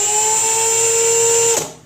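A Milwaukee M18 FUEL ONE-KEY cordless hammer drill (2706-20) whines at a steady pitch for over a second, then spins down and stops, loud and close.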